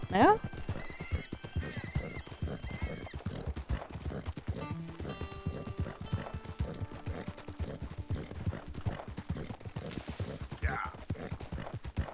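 Horse galloping and neighing in Red Dead Redemption 2, a rapid steady clip-clop of hooves running throughout, with a whinny near the start and someone talking over it.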